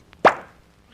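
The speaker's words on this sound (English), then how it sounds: "Jackson, did you just open a bottle of brandy?" A single sharp pop as a cork is pulled from a brandy bottle, close and brief, with nothing else heard.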